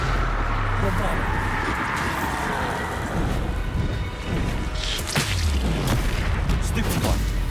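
The Bombarda explosion spell goes off during Hogwarts Legacy combat as dense booms and whooshes in a busy battle mix, with a voice shouting spell names over it.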